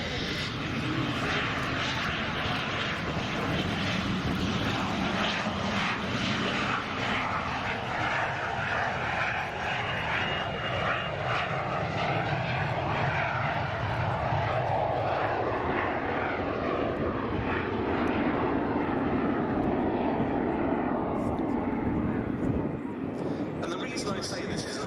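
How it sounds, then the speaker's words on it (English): De Havilland Goblin turbojet powering a de Havilland Vampire FB6 jet fighter, a steady broad roar with a high whistle held loud and continuous throughout, with a voice talking over it. "The sound you can hear is the absolutely marvellous whistle of the de Havilland Goblin turbojet engine"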